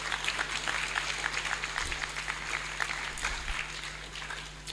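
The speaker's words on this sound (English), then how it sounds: "Let's give them a big round of applause" Applause for a married couple from listeners at a spiritual class, a soft, steady patter of many hands, fairly distant, with a low electrical hum underneath.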